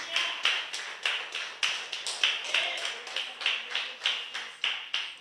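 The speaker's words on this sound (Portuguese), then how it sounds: "Aplauda o Senhor Jesus" A church congregation claps in steady unison, a rhythmic series of sharp, evenly spaced claps repeating at a brisk pace without talk.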